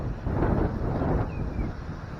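Loud wind buffets an outdoor microphone in a constant low roar that swells slightly and carries on without any voice over it.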